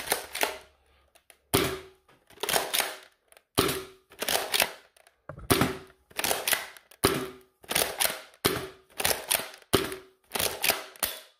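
A Nerf Mega Cycloneshock blaster fires waffle head darts in a steady series of a dozen or so close shots, each a sharp mechanical clack and whoosh followed by the rattle of the drum advancing, with short pauses between.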